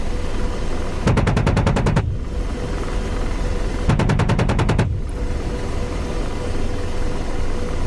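Apache attack helicopter cannon fire in the DCS combat flight simulator during a dawn raid: two loud, rapid bursts of evenly spaced rounds, each about a second long, over a steady rotor and engine drone, with no talk.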